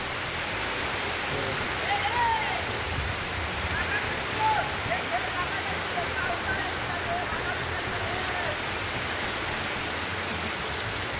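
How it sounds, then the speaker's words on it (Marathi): Steady evening rain hisses continuously on surfaces nearby, a dense even patter, with faint distant voices and bird chirps underneath. "पाऊस पडता काय तो बघा, तो पाऊस पडता"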